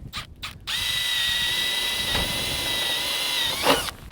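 Rivets being set into hip cap trim high on a standing seam metal roof: a steady, sustained mechanical whir lasting about three seconds, close and fairly loud, with a short ratcheting burst near the end.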